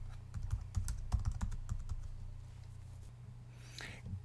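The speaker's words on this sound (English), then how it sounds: "we can just type the word in this window here at the bottom" Computer keyboard typing in the MacRepertory program, a quick burst of close, light key clicks that thins out and stops in a quiet room.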